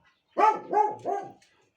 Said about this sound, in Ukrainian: В нас тільки так гавкає, коли хтось приходить.